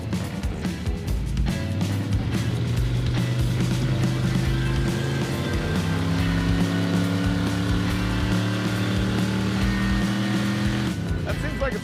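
An off-road car on a rough trail labours hard, its engine droning loud and steady as transmission whine climbs in pitch and holds, with a few sharp knocks and a sudden drop near the end.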